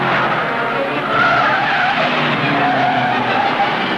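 A cartoon car skids and peels away with a long, loud tire squeal and engine whine sustained for several seconds, close and prominent with no talking.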